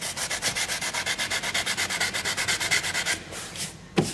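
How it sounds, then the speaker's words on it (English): Steady rhythmic strokes of 220 grit sandpaper rubbing back and forth over a scratched, scuffed plastic bumper cover, close and alone, ending with a brief knock. "start off with some 220 grit sandpaper and go over all of these scratches and scuff marks"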